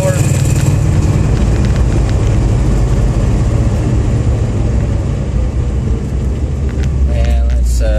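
Bagged 1954 Packard driving around town on a hot day, its engine rumbling steadily and loud from inside the cabin, with road noise throughout.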